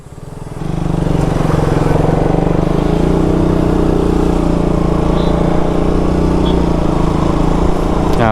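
A KTM Duke motorcycle rides in fourth gear, its engine droning loud and steady after a brief rise at the start, with constant wind rush and no pauses.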